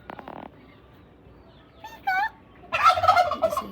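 A turkey gobbles loudly nearby in a rapid, warbling burst after a couple of shorter bird calls, at a family farm gathering with no speech over it.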